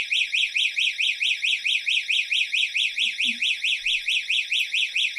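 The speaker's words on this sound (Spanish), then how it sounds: "sonar la sirena y nos debería estar llegando una alerta" A loud electronic alarm siren from a GPS tracker motorcycle alarm warbles continuously, its tone rising and falling in rapid, evenly spaced pulses with no pause.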